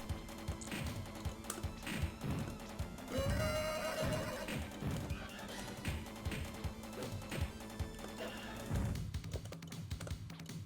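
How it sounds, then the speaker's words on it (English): A horse neighs in the Sunset Riders arcade game, a rising whinny that rings out in the middle. Busy game music, tapping hoof-like effects and other game sounds play throughout. "I hope you really like that horse noise, because you're going to be hearing it a lot in this stage"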